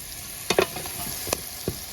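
Ginger and green chili fry in oil for a tuna roast, a steady close sizzle with a few sharp spoon scrapes and taps against the pan as they are stirred.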